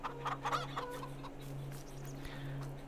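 Chickens clucking on a farm in Farming Simulator 22, several short clucks near the start and then fainter scattered calls over a steady low hum, with no voices.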